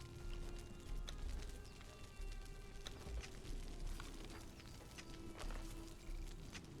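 Horse hooves clip-clop steadily on the ground in the video game Conan Exiles, a quiet, regular patter of hoofbeats with faint background ambience and no talk.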